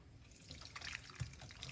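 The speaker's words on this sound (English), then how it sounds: "Let's pour off this beautiful tea, guys." Herbal tea poured off into a container, a quiet close trickle with small splashes and drips, fairly faint and without voices.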